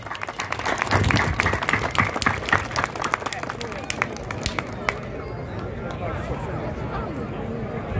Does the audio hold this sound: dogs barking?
no